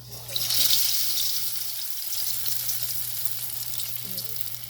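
Wheat-flour-battered potatoes sizzle steadily in hot oil, a close, continuous hiss that rises briefly as a piece goes into the pan.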